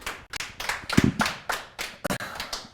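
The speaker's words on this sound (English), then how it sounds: "Big round of applause here for Tracy" A small group claps for Tracy at a live online event, with about ten distinct, fairly close hand claps in an uneven rhythm and no talk over them.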